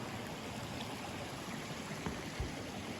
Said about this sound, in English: Water feature works.